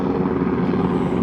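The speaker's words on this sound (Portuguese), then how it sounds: "deixa o helicóptero passar aqui na Barra, passa toda hora" A helicopter passes over Barra, giving a steady, loud rotor-and-engine drone that stays broad and even throughout, with no talking.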